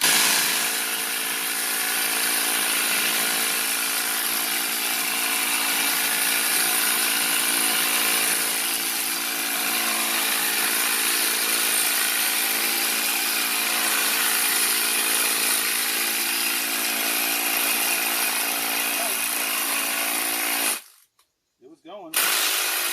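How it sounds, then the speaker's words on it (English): A Ryobi 3/8 impact driver, the smaller Ryobi model, running continuously with a steady high-pitched mechanical whine and hum for about twenty seconds before cutting off abruptly. "It's like the 3/8 impact. It's the smaller impact the Ryobi makes."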